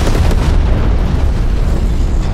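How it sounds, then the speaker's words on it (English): A napalm strike in Call of Duty: Black Ops Cold War lands as a loud, continuous roaring blast, a dense rumbling burst that fills the whole moment with no talk over it. "napalm strike inbound"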